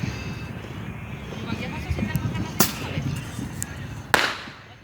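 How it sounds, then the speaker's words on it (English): Small smoke bombs and little rockets set off outdoors, giving two sharp pops over a steady background rumble while someone talks. "I just might as well be blowing up these smoke bombs while I talk"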